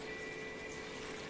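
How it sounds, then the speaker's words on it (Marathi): Water pours into pav bhaji vegetables in a pan, a brief steady rushing splash, close and continuous, with no talk. "टाक पाणी त्याच्यामध्ये."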